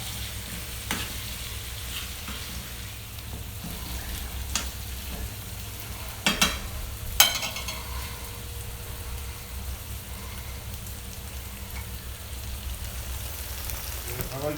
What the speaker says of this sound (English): Stir that up for a little while. Saute it up for like about a good 10 minutes.